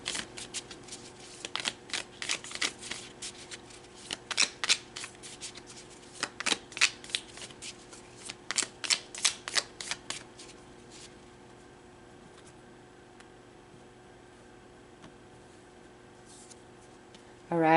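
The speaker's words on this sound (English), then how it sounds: "So let's pull some more cards" Tarot cards are shuffled by hand close up in a quick series of crisp riffles and slaps for about ten seconds, then it goes quiet with only faint room tone.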